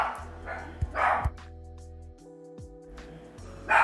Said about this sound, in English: There's the barking.